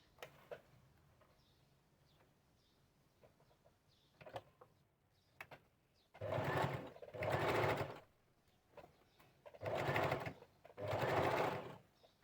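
A sewing machine stitches a dress neckline backed with canvas, whirring in three loud sustained bursts after a quiet stretch of faint handling sounds.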